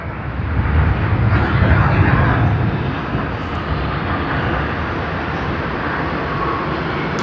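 An airliner painted in Pokemon livery moves at Sydney Airport, a loud, steady broad engine roar that swells early and then holds, with no talk over it.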